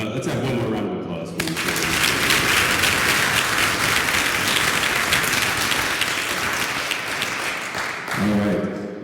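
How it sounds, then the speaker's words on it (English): Loud, sustained audience applause fills a hall at a public art award ceremony, a dense wash of clapping lasting several seconds, with a voice speaking briefly before it swells and again as it fades. "Let's have one more round of applause."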